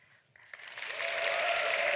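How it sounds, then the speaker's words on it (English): A conference audience at RubyConf AU 2017 claps and cheers, starting from near silence with a few scattered claps, then swelling within a second into a dense, sustained wash of applause with whoops. "I want everybody to just start clapping and cheering and like losing your minds."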